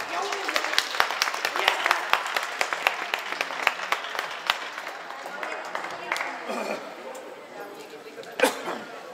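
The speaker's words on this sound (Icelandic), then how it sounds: "Við skulum gefa rennuflónum gott klapp." An audience at a boccia championship applauds with brisk, dense clapping that gradually thins out, a few voices calling out near the end.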